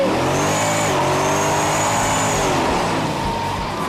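A powerful muscle car engine, a Shelby Super Snake or Challenger, roars steadily at high revs on a track, pulling hard with a sustained, loud drone and rising pitch, heard up close without talk.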